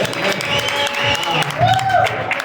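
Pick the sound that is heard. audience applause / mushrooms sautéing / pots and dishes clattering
audience applause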